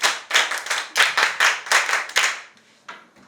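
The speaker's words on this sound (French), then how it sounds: "Applaudissez pour elle." A classroom of students claps for a classmate in loud, rhythmic bursts of quick hand claps, near and crisp, fading to a few scattered claps at the end.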